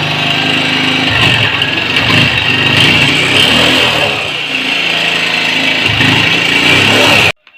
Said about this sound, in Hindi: बाइक हमारी स्टार्ट हो चुकी है।